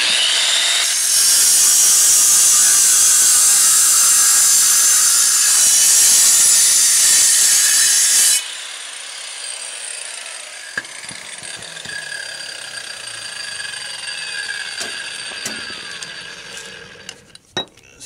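Saw cutting into concrete between two marked lines, a loud continuous harsh grinding buzz for about seven seconds that stops abruptly, followed by quieter scraping and tapping with no talk.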